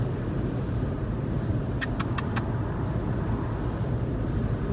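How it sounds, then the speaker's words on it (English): Steady road rumble and engine hum inside a car driving home, continuous low noise with a few quick high beeps partway through. "Mama driving home."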